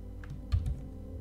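A couple of quick computer keyboard key presses for a Ctrl J shortcut, close and fairly soft, with a low steady room hum underneath and no talking.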